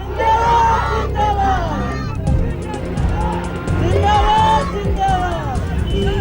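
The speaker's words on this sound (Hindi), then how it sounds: "लालू की झलक पाने के लिए भारी भीड़ उमड़ी थी।" A large, loud crowd of supporters gathers to see Lalu Prasad Yadav in Raghopur, with dense babble, excited shouts and cheering swelling and falling throughout, and voices calling out over the hubbub.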